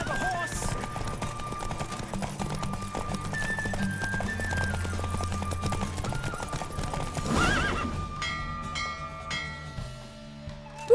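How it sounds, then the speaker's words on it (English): A galloping horse pounds along with loud clip-clop hoofbeats and a neigh during a horse race in The Witcher 3, over orchestral game music, then the hooves fade out toward the end. "Don't spare the horse."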